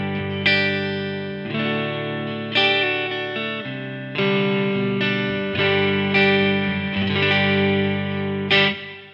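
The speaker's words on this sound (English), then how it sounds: "So the clean tone I'm going to be using sounds like this." Clean electric guitar tone from a Tokai Strat into a Blackstar Studio 10 6L6 amp, strummed chords and ringing notes played alone, steady and fairly loud with some shimmer.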